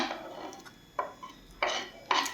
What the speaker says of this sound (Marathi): आता आपण यामध्ये घालूयात बारीक चिरलेला कांदा